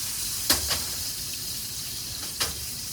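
Steak searing in a hot pan, giving a steady, bright sizzling hiss throughout, broken by a few short, sharp crackles and spatters near the start and again later.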